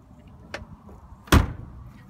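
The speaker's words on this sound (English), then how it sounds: "Doors open and close perfect." On a white early American V8 coupe with automatic transmission, a car door gives a light click followed by a heavier solid slam, two distinct close impacts against a quiet background.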